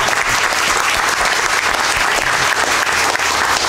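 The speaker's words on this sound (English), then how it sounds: "we clap for them" Loud, dense, continuous applause fills the room at a school board of education meeting as the audience claps for award recipients.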